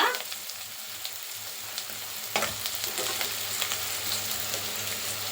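Onion and spices frying in a pan, a continuous sizzle with occasional clinks and scrapes of stirring, growing busier and louder partway through, no talking.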